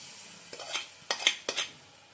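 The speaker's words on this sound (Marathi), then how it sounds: "आता थोडेसे मसाले ते फ्राय झालेले आहेत तर त्याच्यामध्ये अंडी जी घेतलेली पाच ते टाकून घ्यायचे" A spoon clinks and scrapes in a pan as five eggs go into fried spices for egg bhurji. A few distinct metallic knocks and stirs come in quick clusters, close and moderately loud over a faint sizzle.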